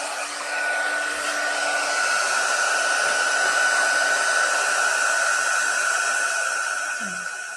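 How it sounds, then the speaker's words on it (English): A heat gun blows hot air over embossing powder in a steady, loud, breathy roar that holds for several seconds, heard up close with a faint tonal whine and no talking. "I'm just going to heat gun this"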